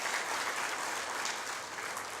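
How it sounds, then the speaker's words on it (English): Applause from a seated audience at a housing distribution ceremony, a steady dense patter of many hands clapping at moderate level throughout, with no voices over it. "Can we all give them a round of applause?"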